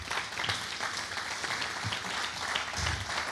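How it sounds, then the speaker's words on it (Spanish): A church congregation applauds during a sermon, steady dense clapping from many hands for a few seconds, moderately distant and fairly soft, with no speaking. "denle un aplauso al Señor por lo que Él nos acaba de enseñar"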